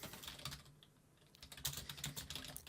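Keys clatter on a computer keyboard in quick irregular bursts, close and fairly quiet, with a short pause partway through, while a graphic design project is being laid out.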